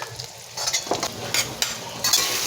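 A finely chopped medium onion goes into hot oil in a well-heated kadhai, giving a steady close sizzle with bursts of scraping as it is stirred.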